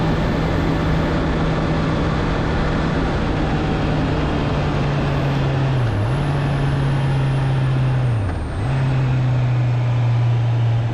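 A 2023 Honda CB650R motorcycle engine drones loudly and steadily while riding on the road, its pitch dipping briefly twice as if between gears, with rushing wind noise underneath.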